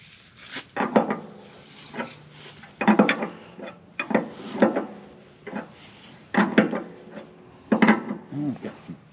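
A big wrench works at a tight bolt on farm equipment, producing close metallic clanks and ratcheting scrapes in short bursts about every second.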